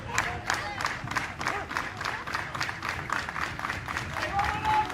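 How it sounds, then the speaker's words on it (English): Kids, friends and families cheer and clap at a Little League baseball game in Brookfield, Wisconsin, a steady crowd roar with rising shouts and applause throughout. "There's so much emotion in the background with the kids and their friends and their families cheering them on."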